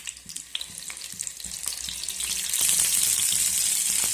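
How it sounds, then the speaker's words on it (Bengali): Whole pointed gourds (potol) dropped one by one into hot mustard oil, light crackles and taps at first, then a steady loud sizzle that swells and holds as the oil bubbles around them. "পটলগুলো সরষের তেলে ভাজবো"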